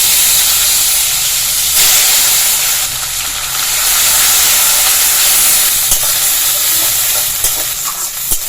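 A ground paste of onion, ginger and garlic sizzles loudly in hot oil for a fish curry, giving a dense, continuous hiss that rolls on steadily throughout, close up and with no voices.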